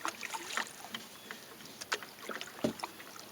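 A canoe is sculled with a paddle on a lake, giving soft intermittent water swishes and drips with faint knocks, close and quiet against a calm background.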